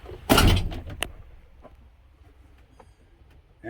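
A car's driver's door swings shut with a loud thump near the start, followed by a few faint clicks and rattles in a quiet space.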